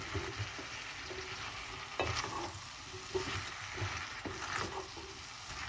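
A spoon stirs corn through simmering Caribbean pea soup, close and fairly quiet. Steady sizzling bubbles under a series of periodic scraping strokes, with no one talking.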